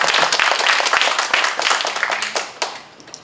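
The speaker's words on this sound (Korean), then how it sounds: "박수 한번 쳐주신다면" Lecture audience clapping together in a hall, dense applause that thins out and fades toward the end with a few last claps.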